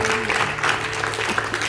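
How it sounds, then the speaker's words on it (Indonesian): Congregation clapping during a revival worship service, a short burst of applause heard together with a voice and sustained tonal hum from the room. "Tepuk tangan dulu buat Tuhan Allah."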